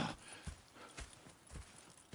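Horse hooves clip-clop in a PS4 video game, a quick uneven series of close, soft thuds with no talk over them.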